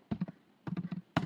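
Code is typed on a computer keyboard in three short clusters of crisp key taps, quiet and close, with no talk.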